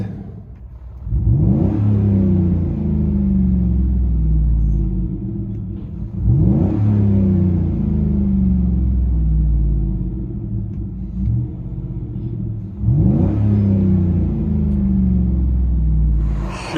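Interior of a 2008 Chevy Tahoe LTZ with a 6.2L V8, Flowmaster Flow FX exhaust and resonator delete: three strong rev-ups, each rising and falling, over a steady deep idle rumble, loud and close with no talking.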